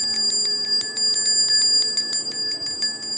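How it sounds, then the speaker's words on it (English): A small hand bell is shaken continuously, giving a rapid run of bright metallic rings that repeat and shimmer for several seconds, close and loud, with no talking over it. "y'all know I'm gonna grab my bell."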